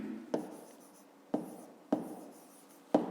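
Pen writing a math solution on paper, four separate short scratchy strokes each starting with a sharp tap, close and quiet, with no talking.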